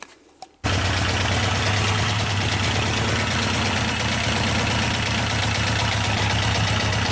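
Yamaha 1200 FJ motorcycle engine catches after a short quiet start and settles into a loud, steady idle following carburetor synchronization, a close, even rumble running alone to the end.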